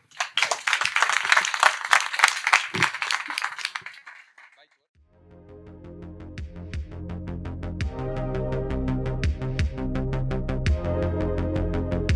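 A crowd at a startup talk event applauds for a few seconds, the clapping tapering off into silence before music starts up and continues to the end.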